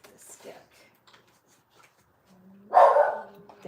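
A pet dog gives a single loud, close bark near the end, after quiet, indistinct speech earlier on.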